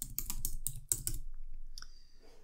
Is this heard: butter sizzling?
no